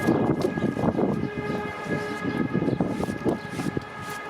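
A loud horn blares steadily over a heavy rumbling, rattling background, holding one sustained tone throughout.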